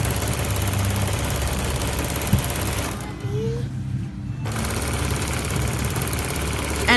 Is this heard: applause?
no